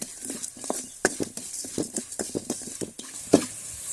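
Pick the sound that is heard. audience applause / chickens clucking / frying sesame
frying sesame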